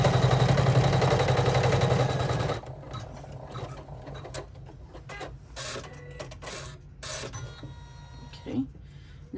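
An embroidery machine stitching a fold line on a hooped credit card slot add-on, a fast loud motor whir for about two and a half seconds, then quieter intermittent clicks and needle ticks.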